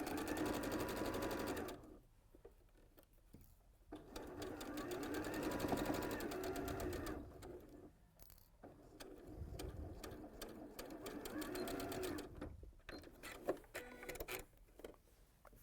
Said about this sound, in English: sew this centre section together using your 1/4 inch seam allowance